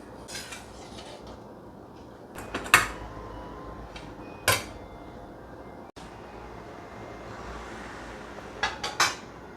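Rusty enamel tin plate and metal utensils clatter while noodles are served, giving several sharp, close metallic knocks and clinks over a quiet background with no talking.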